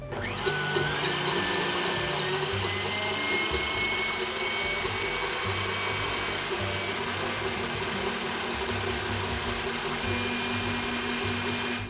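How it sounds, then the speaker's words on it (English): Electric mixer whipping egg whites for chocolate walnut meringue cookies, a steady, close mechanical whir with a high whine that holds evenly throughout, with no speech. "Just put that into a mixer."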